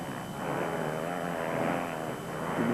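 Four-stroke MX1 motocross engines hit their rev limiters at the Lichtenvoorde track, making a sustained, throbbing mechanical buzz that rises slightly and holds steady with no voices over it.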